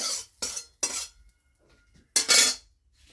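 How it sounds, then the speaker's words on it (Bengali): Fried vegetables being poured and scraped from a pan into a bowl of batter, with a few short, sharp clinks and scrapes of utensils against cookware, close and alone. "এটার মধ্যে সবজিটা দিয়ে দিচ্ছি ঢেলে"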